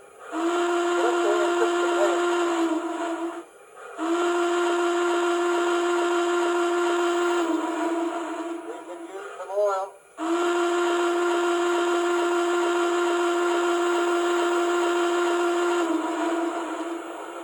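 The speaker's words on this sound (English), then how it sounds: "Function 2 is the whistle." A model Southern Pacific GS-4 Daylight 4449 steam locomotive's sound-system whistle, HO scale, blows three long, steady blasts with short breaks between, loud and close, with a faint hiss and chatter underneath.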